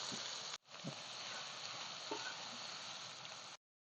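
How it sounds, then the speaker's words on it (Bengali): Chopped onions frying in oil in a pan until reddish brown, giving a steady close hiss of sizzling with a few faint stirring knocks, briefly cut off near the start. "পেঁয়াজ ভাজা পুরো লাল লাল ভাজা হয়ে গেছে"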